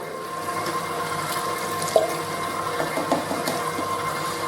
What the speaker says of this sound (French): Là, je rajoute mon lait.